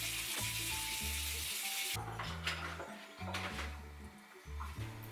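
Strawberries being washed under running water make a steady hiss that is strongest early on, with a tonal background sound underneath throughout.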